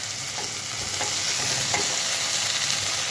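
Aloo bhindi, okra and potato, gets a light stir with garam masala in a hot pan: a dense, even sizzle with soft scraping strokes, close and steady throughout.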